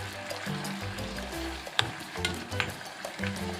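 Chicken liver and gizzard sisig sizzles in a pan while it is gently stirred, with steady frying crackle and soft scraping of the utensil throughout, no talk.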